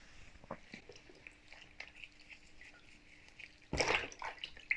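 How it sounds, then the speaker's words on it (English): A hand stirs and swishes water in a herbal foot bath with dissolved salts, giving soft, faint splashing and dripping close by, with a louder burst of sloshing near the end. "I'm just going to give it a stir around with my hand to ensure that the salts have dissolved and that the herbs are all under the water."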